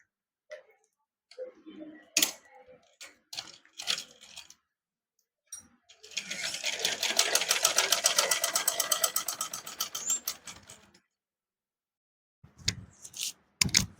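Sewing machine stitching a seam on a readymade blouse, with a steady, rapid mechanical ticking run of several seconds in the middle, framed by close clicks and fabric handling before and after, no talk.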